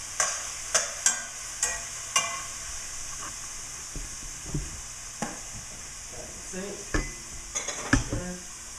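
A big block of salted butter melts in a frying pan with steaks, giving a soft, steady sizzle punctuated by sharp clinks and scrapes of utensils against the pan, with no talking.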